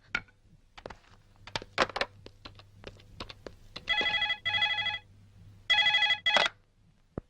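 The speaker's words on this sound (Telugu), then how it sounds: "సార్, నేను ఒక ఫోన్ చేసుకుంటాను ప్లీజ్ సార్" A telephone in a jail office is used for an outgoing call: several sharp clicks of keys being pressed, then two bursts of bright electronic ringing separated by a short pause, close and clear.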